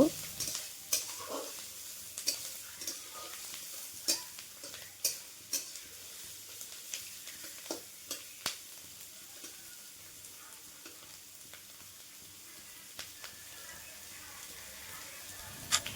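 Onions fry and soften in a pan while being stirred, a steady low sizzle broken by repeated sharp scrapes and taps of a spatula, frequent early on and sparser later.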